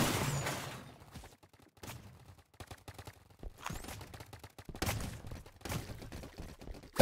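Bursts of video game gunfire, sharp shots crackling in irregular clusters with quiet gaps between them, fairly close and moderately loud.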